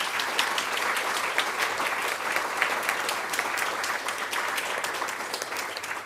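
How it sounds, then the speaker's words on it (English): A steady round of audience applause at a career forum event, with dense, even clapping that continues at full strength throughout. "So a big round of applause."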